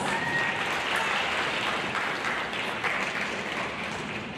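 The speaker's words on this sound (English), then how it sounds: "Let's give our All-Star Rabbits a round of applause." A room full of people at a 4th grade awards ceremony claps steadily, a sustained wash of applause without cheering.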